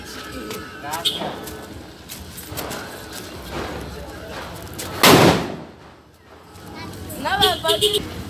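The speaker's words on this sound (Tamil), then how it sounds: "நாட்டு வெடி சொல்லு." Country firecrackers (naatu vedi) burst during Diwali celebrations, one loud broadband blast near the middle standing out among scattered smaller pops, with people talking throughout.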